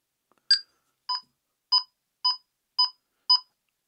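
Six short electronic beeps from a step counter sound one after another at an even, walking-pace rhythm, close and clear against silence.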